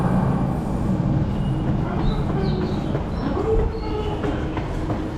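A train in a station in Akihabara, Japan, rumbles steadily in the foreground with a low continuous roar, light wheel clatter and a faint brief squeal midway, with no talking.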